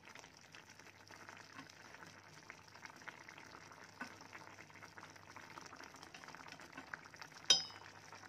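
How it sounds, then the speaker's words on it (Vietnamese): Mackerel and pork belly braising in a pot, giving a faint steady bubbling simmer with light liquid crackle and a single clink of utensils near the end, no talk. "để cho nó sôi tầm khoảng cỡ 2 phút nữa nó rim hết lại đó nghe các bạn"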